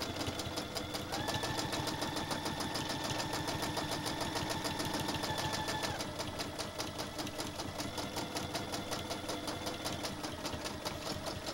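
A sewing machine stitches machine appliqué on a baby quilt, a steady fast needle rhythm running continuously at close range with a mechanical hum throughout.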